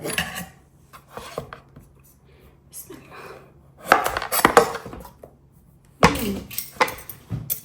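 A bottle gourd being peeled by hand in a home kitchen gives off scattered raspy scraping strokes, quiet at first and then louder in bursts, with some faint clatter mixed in.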